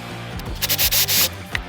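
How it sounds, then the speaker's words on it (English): A power drill bores through a piece of wood at a punched mark, sounding as a short, close burst of rough grinding that lasts under a second between quieter moments. "drill all the way through at that punch hole mark"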